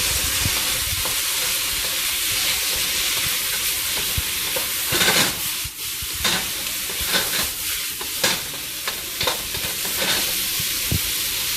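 Onions and mushrooms stir-fry in a pan with a steady loud sizzle, broken by repeated scraping and tossing strokes from a utensil, close up with no talk.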